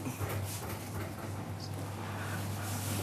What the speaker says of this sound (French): Ah, c'est un moteur, le mixeur.